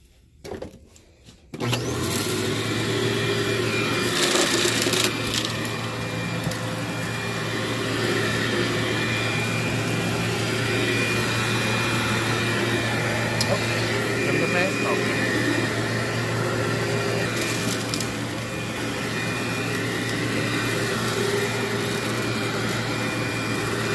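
Vacuum cleaner running on carpet during a heavy carpet clean, a loud steady motor drone starting abruptly after a moment of quiet and holding throughout, with speech over it.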